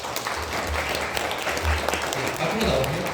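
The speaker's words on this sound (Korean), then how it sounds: "두 가정 박수로 모시겠습니다." Church congregation clapping to welcome two families forward, a short burst of scattered applause in a room with some murmuring voices underneath.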